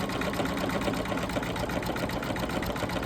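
An embroidery machine sewing a satin stitch on an Easter bunny table runner buzzes in a fast, even, close-up rattle of rapid needle strokes with no pauses.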